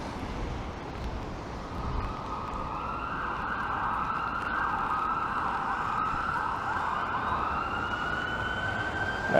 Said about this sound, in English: That's an ambulance with its sirens going.